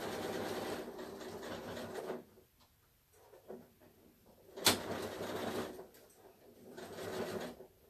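A sewing machine runs in short bursts while back stitching the end of a seam on a tulip tea towel, with brief pauses and a sharp click midway, close and fairly quiet.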